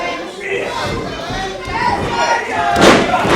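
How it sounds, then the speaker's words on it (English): A wrestling crowd at the P.E.W Reckoning show roars and shouts throughout, with thuds from the ring, an excited commentary voice beneath and a louder swell near the end. "The crowd here not afraid to make their feelings known."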